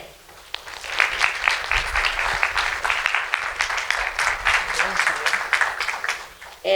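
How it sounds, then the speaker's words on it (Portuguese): An audience at an academic lecture opening claps for the speaker, a moderate crowd of distinct hand claps building quickly after a short pause and continuing evenly before tapering off. "Uma salva de palmas a ela."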